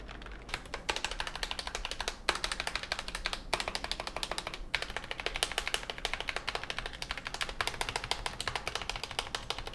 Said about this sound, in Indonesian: Atau kalian bisa dengerin sendiri Nisia typing di keyboard ini.